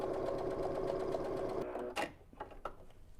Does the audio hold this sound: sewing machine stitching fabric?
yes